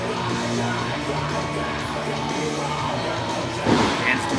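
A wrestling crowd at a SPRY Wrestling show yells and cheers in support of its performers, a dense, steady roar of many voices with a brief louder swell near the end.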